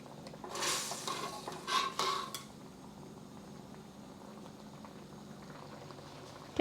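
Thickening gravy for shrimp with silky scrambled egg bubbles softly as egg is swirled in, a few brighter stirring scrapes early on, then a steady low simmer alone.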